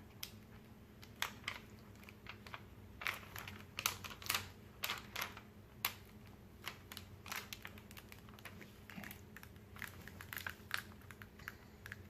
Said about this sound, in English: Now we're just slowly peeling it off the backing.